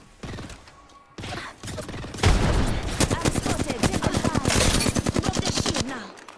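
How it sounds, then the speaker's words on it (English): Rapid automatic gunfire in the battle royale game Apex Legends, loud bursts of many shots in quick succession, with a quieter stretch at the start before sustained firing takes over. "They're shooting at me."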